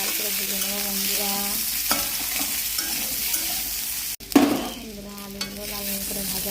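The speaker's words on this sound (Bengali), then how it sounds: "আলুগুলো এরকম লাল লাল করে ভেজে নেব।" Potatoes sizzle steadily in hot oil while being stirred and fried until reddish-brown, with a continuous close hiss and occasional scraping clatter of the spatula, one louder knock partway through.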